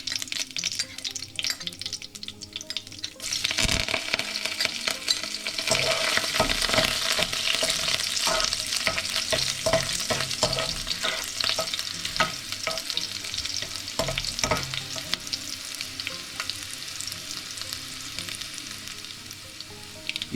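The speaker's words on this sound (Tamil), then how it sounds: "இதில் நம்ம தாளிக்க வச்சுருந்த பொருட்கள் எல்லாம் சேர்த்து நல்லா பொன்னிறம் ஆகிற வரைக்கும் வதக்கி" Tempering spices sizzle in hot oil for a Tamil fish curry, meen kuzhambu, a steady crackling fry with intermittent stirring scrapes, close and continuous.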